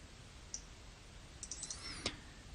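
Mouse clicks in a SCADA/HMI software tutorial come as a few faint, sharp ticks scattered across a quiet room background, with a slightly louder click near the end.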